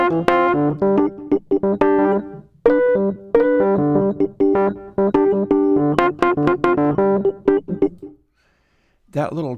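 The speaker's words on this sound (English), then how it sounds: "That little chirp there is just the tines of the Rhodes acting a certain way when I play them loud enough." Rhodes electric piano played hard so the tines bark with a chirpy, gritty attack, a run of loud, closely spaced chords and notes that stops dead, then one last struck note after a pause.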